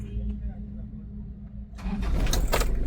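A Toyota Qualis diesel engine with heater plugs is started: a low, steady rumble gives way near the end to a sudden louder burst as it cranks and catches, rising into a rough running roar, with some voice in the background.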